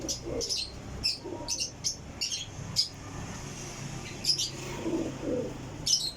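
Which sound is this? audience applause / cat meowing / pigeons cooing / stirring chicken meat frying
pigeons cooing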